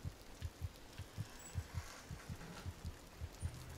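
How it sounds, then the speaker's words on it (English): A low, muffled heartbeat in the video game Among the Sleep thumps steadily in paired beats, faint beneath a soft hiss of background noise. "I hear a heartbeat. Is that my heartbeat?"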